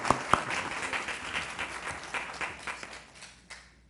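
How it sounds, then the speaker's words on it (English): Audience applause for the moderator at a 2018 city candidate forum in Riviera Beach, a steady patter of many hands that rises with a couple of sharper claps at first, then thins and fades out after about three and a half seconds. "Please, everybody give a round of applause for our moderator."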